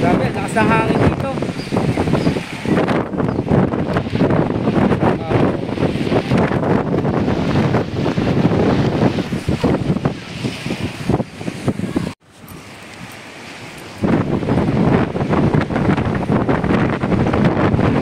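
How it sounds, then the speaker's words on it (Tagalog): Strong wind buffets the microphone by a lake, a steady loud roar with gusty surges and a brief drop near the end, while people talk throughout. "lakas ng hangin dito"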